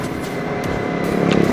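Kawasaki ZX25RR four-cylinder motorcycle engine revving, a loud, close, high-pitched buzzing rev that holds steady and swells slightly toward the end.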